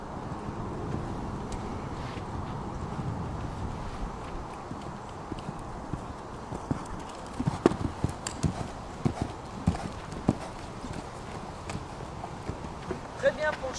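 Horse hooves clip-clop in an uneven rhythm during a summer 2011 training course with the horse Rocher, fairly close and grounded under continuous wind noise, with people speaking over the footfalls.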